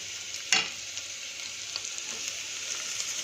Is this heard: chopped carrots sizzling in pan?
yes